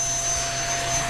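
A model L39 jet's turbine runs at about three-quarter throttle for takeoff, giving a steady, loud rushing roar with a thin sustained high whine riding on top throughout.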